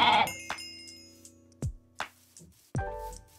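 Goat in the Minecraft video game giving several short bleats spaced apart, close and clear against a quiet background.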